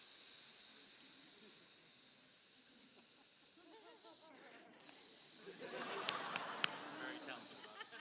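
A voice imitates a steady hiss of air leaking from a tire, a constant breathy noise that holds for several seconds with a brief break midway.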